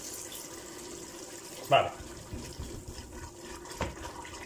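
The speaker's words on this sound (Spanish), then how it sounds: "Le vamos a echar vino tinto, como un vaso aproximadamente." Red wine, about a glass, poured into a cooking pot of browning beef for a bean and veal stew, a soft liquid splash under a brief spoken word, with light kitchen sizzle.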